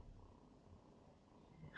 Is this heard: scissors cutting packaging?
no